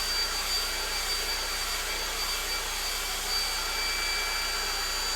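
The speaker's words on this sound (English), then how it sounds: "we're going to have to get the hairdryer running again, only for a moment" A hairdryer blows steadily for surface-drying paint on a woodturning piece, a constant loud airy roar with a faint high whine, running alone without a break.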